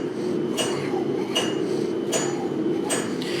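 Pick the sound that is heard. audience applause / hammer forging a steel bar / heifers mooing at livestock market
hammer forging a steel bar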